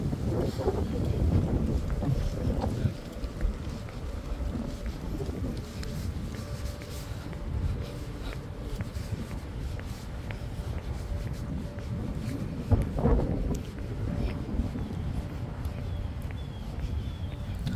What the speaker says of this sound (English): The wind feels so good, it sounds good.